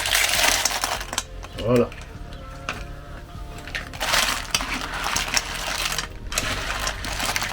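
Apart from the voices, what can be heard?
cockles tipped into a pan over a wood fire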